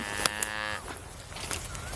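On a farm, cattle raised on natural feed from native Thai stock let out one clear, fairly close moo that fades out, followed by faint farmyard background noise and a few small clicks.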